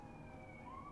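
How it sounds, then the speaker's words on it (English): Sirens wailing in the distance, a faint rising and falling tone over a low rumble. "here come the sirens"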